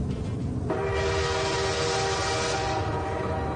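A radio train schedule opens with a train sound effect: a rumbling rail-car roar into which a steady, loud train horn blast cuts and holds for about two seconds before fading back into the rolling noise.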